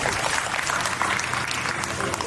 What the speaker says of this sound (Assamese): হাত চাপৰি বজাব অনুৰোধ কৰিম